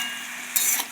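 A spoon stirs spice paste, chillies, turmeric and water into bottle gourd and prawn curry in a hot pan, a soft steady sizzle with a brief scraping stir near the end, no voices.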